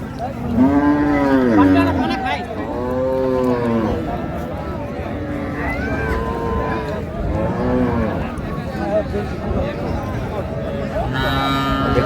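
Dairy cows and calves of an improved milking breed moo repeatedly at a cattle market, long loud calls recurring every couple of seconds, with people talking throughout.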